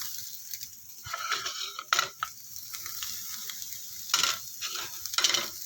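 Finely chopped onions and green chilies crackle and hiss in a hot pan, with intermittent scraping bursts as they are stirred, fairly quiet and close.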